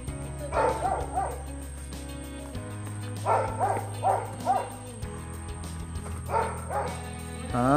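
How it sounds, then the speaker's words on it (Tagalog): A dog barks near a seaside hut in repeated clusters of sharp, fairly close barks separated by short pauses, over a low background hum. "baka talunan ako ng aso, mahirap na. Aso, hanggang dito lang pala talaga to."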